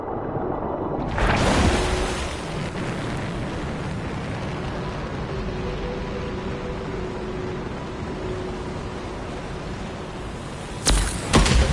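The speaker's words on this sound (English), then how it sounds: "Look at the waterfalls. They're going backwards." Waterfalls in the video game Anthem, a broad continuous rushing roar that swells in at the start and holds steady, with a sharp burst of louder noise near the end.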